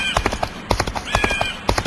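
A horse in a western video game clip-clops in quick, close hoofbeats and gives a bright whinny partway through, loud and alone.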